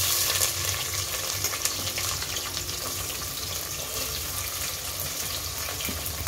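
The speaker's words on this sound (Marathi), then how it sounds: "कांदा आता मस्त आपला लाल होईपर्यंत आपल्याला भाजून घ्यायचा आहे तेलामध्ये" Sliced onion frying in oil over a medium gas flame with small cinnamon pieces, the start of a mutton biryani, gives a steady, dense hiss that runs unbroken and fairly even throughout, with no voices.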